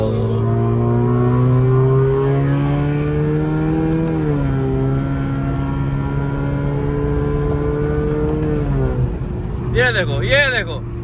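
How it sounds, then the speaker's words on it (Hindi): A vehicle's exhaust drones steadily with a smooth rising and falling pitch, loud and close, before a short wavering higher whine near the end. "भाई एग्जॉस्ट की साउंड क्यों नहीं सुना रहे हम?"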